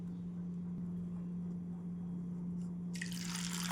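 A small bowl of water poured into a pressure cooker of drained sabudana, heard as a short, close splash near the end over a steady low hum.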